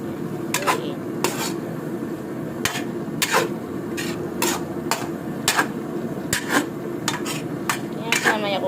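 A utensil stirs sliced vegetables with radish in a pan, repeated sharp metallic scrapes and taps on an irregular beat over a low steady background, close by.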